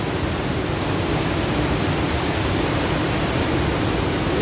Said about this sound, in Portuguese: Linda essa cachoeira